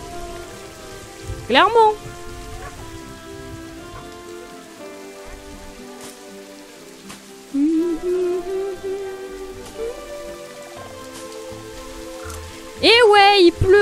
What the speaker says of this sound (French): Et ouais, il pleut encore.